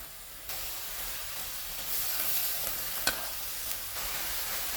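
Minced pork stir-fries in a pan for a spicy long eggplant dish, a faint, even hiss of frying with occasional light scrapes and taps from the spatula.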